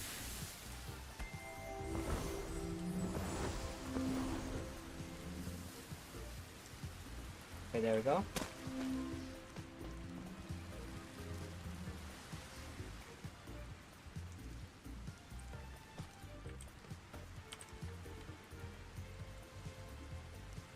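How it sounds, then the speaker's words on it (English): Soft rain from a video game patters steadily at low volume throughout, with a person talking over it. "I like the rain sounds."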